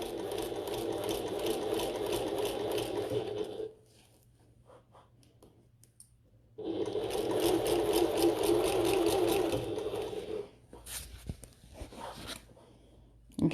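A sewing machine stitches a bucket tote bag around a curve in two steady bursts of rapid, even whirring, separated by a few seconds of quiet. Faint fabric rustles and handling follow the second run.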